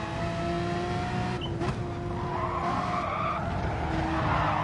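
A race car in a racing video game oversteering through a corner, tires skidding and squealing over a steady engine drone, sustained and fairly loud.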